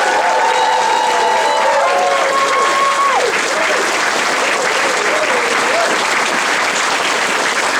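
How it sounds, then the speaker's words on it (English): A convention closing-ceremony crowd applauds the organizing committee, loud sustained clapping filling the hall, with cheering and whistles rising over it early on. "a big round of applause for the entire committee"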